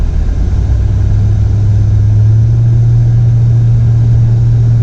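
A mini truck's engine rumbles steadily and close by, holding a low, even drone with slight revving as it rolls up, with no talk over it.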